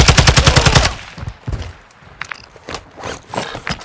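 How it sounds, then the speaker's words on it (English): A fast burst of automatic fire in Call of Duty Warzone 2, loud and close, followed by scattered single shots, scraping and gear clatter, with no talking. "I'm taking fire!"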